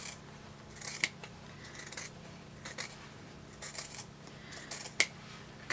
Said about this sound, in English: I'm going to get my scissors